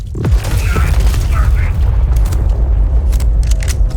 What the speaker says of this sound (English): I got it. Target locked. Firing.